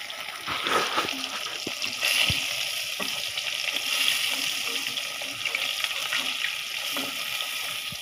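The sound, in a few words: fish frying in a pan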